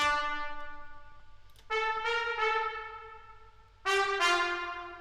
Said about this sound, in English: The next sound is from BBC Symphony Orchestra. It's a horn.